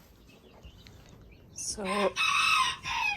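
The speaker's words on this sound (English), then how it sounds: "our rooster. He's a bantam." A small gray bantam rooster crows close by, a shrill, strained call in several parts near the end, after a soft word of speech and quiet background.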